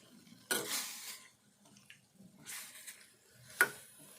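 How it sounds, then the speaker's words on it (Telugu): Chicken pieces dry-fried in a pan with no water, a utensil stirring and scraping in a few separate bursts with faint sizzling between, close and fairly quiet. "కడిగినాక ఇందులో ఏం నీరు లేకుండా వేపుకోవాలి."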